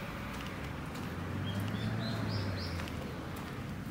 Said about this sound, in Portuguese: O passarinho